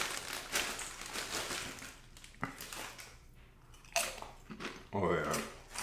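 Someone eating a Subway tuna sandwich topped with Doritos, giving crisp crunchy bites and chewing in irregular bursts, close up, with crinkling and louder crunches toward the end.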